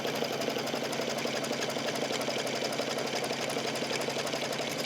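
A sewing machine runs continuously while stitching a fabric note holder held in an embroidery hoop, producing a fast, even mechanical whir and rapid needle chatter at a steady, close level, with no voices.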